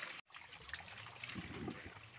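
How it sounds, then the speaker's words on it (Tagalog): Water flowing strongly at a place where laundry is washed, a steady close rushing and trickling after a brief cut at the start. "Ang lakas pa ng tubig."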